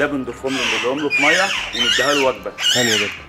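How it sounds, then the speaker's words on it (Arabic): An Amazon parrot gives harsh, loud squawks in close succession, the calls overlapping someone speaking Arabic nearby. "بغبغان دره امريكا"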